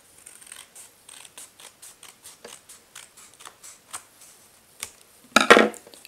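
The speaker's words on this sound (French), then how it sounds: "on va venir couper tout simplement le rebord des deux enveloppes" Scissors snip along the edges of two paper envelopes in a quick, regular run of about a dozen close crisp cuts. A louder rustle of paper being handled follows at the end.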